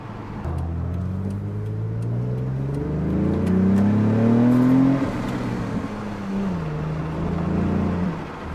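A supercharged Nissan Maxima's VQ V6 engine with straight pipes revs up through rising gears with a raw, loud exhaust note, then eases off and settles into a lower drone.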